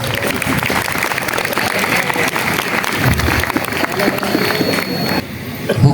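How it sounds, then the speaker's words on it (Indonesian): Loud, dense clapping from an audience at an Isra Mi'raj religious lecture at a school, continuous and close, with some crowd noise, thinning out toward the end. "Tepuk tangan buat temennya."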